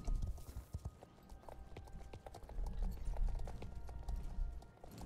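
Horse hooves clip-clopping while riding in the video game Star Stable Online, a steady rhythmic trot of several horses together, moderately close with faint background music.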